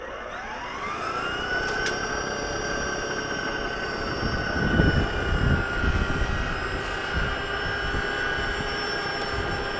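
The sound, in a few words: Ego 28-inch two-stage battery snow blower clearing driveway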